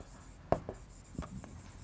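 Chalk or pen strokes come from writing in a thermodynamics physics lecture for NEET: a few short, faint scratches and taps with quiet pauses between them.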